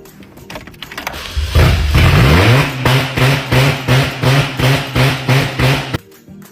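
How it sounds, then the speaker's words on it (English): A cold car engine cranks to life with a surge, then revs repeatedly in a steady rhythm of about eight loud, close bursts before cutting off abruptly. "Number 5 would be revving a cold engine."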